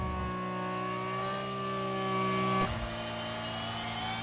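Steady droning Formula 1 race car engines from the video game F1 Manager 2024 hold a high pitch, with one gear shift midway before the whine climbs again, with no talking.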